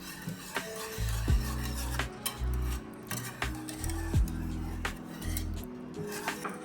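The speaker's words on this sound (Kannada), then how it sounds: "ಸೊ ಈಗ ಇದನ್ನ ಫುಲ್ ಸ್ಮ್ಯಾಶ್ ಮಾಡ್ತೀನಿ ಬೇಳೆನ." Cooked lentils (dal) with fenugreek leaves being mashed in a pot, giving irregular metallic clinks and knocks of a utensil against the pot over a low background hum.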